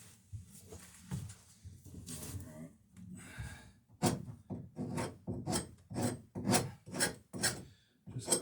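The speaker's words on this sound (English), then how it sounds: "cleaning up some of the glue here, glue squeeze out" Glue squeeze-out is scraped off wooden dory boards in repeated rasping strokes, close and fairly quiet, settling into a regular rhythm of about two scrapes per second after some scattered softer scraping.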